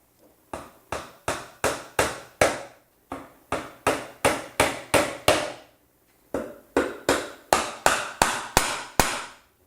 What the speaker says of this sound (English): I'm going to come back and put in some tacks, some mechanical fasteners